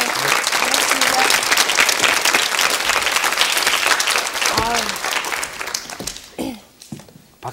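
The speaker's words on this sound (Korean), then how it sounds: "박수 되게 오래 치네요." A studio audience applauds loudly and steadily for several seconds on a Korean television talk show, then the clapping thins out and fades near the end.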